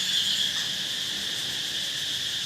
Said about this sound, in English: everyone's like, oh yeah, it's cicadas.